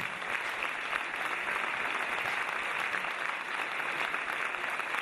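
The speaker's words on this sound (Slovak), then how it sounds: "Takže ak ju môžeme veľkým potleskom privítať." An audience at a celebration of 300 years of the Ursulines in Trnava applauds to welcome a teacher, with dense, steady clapping that fills the whole stretch and no talk over it.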